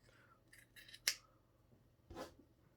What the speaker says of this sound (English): I'm just going to cut some little leaves for the side. So cut a leaf shape,